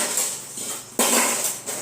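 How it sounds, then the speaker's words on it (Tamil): Dishes and pots being washed by hand in a home kitchen clatter and scrape close by, with a sharp metallic clank midway and lighter knocks after it. "பாத்திரம் விளக்கிட்டு இருக்கேன்."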